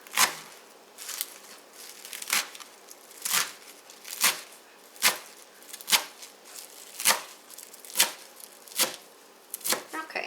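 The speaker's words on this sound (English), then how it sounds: "I just finely chop that up, and it's going to give it some nice color" A knife finely chops bitter greens on a cutting board, giving about a dozen crisp, evenly spaced thuds, close and clear, with no talking.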